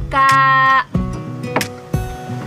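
Sheep bleating in a pen at close range: one long, loud, wavering bleat, then two shorter calls a moment apart.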